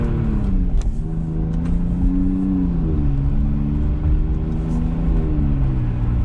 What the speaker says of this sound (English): I'm just going to jab the throttle.